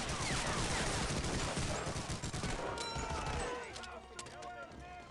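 Gunfire in the video game Medal of Honor, a dense rattle of shots and explosions with music, loud and continuous for several seconds before easing slightly near the end.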